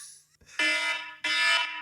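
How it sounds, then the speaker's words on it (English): A fire alarm sounds in two loud, harsh buzzing bursts, each about half a second long and separated by a short gap, with no talking over it. "we're about 2 seconds away from the alarm going off."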